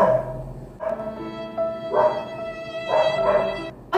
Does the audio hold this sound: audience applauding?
no